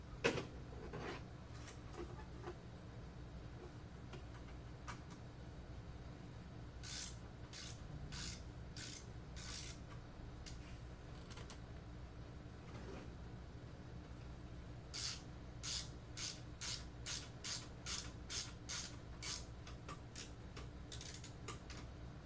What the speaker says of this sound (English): So I tighten it down.